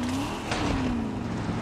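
An in-game car engine in Far Cry 6 drones steadily off-road, a close, continuous motor hum that rises and falls slightly in pitch, with a brief rushing surge near the middle.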